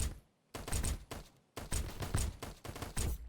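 Bursts of gunfire from the duck-themed extraction shooter Escape from Duckov, coming in three close, loud volleys of rapid shots separated by brief pauses.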